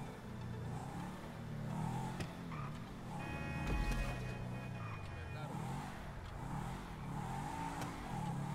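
Car engine in Grand Theft Auto V revving and easing off in repeated swells, moderately loud, with faint game sounds and occasional voices around it.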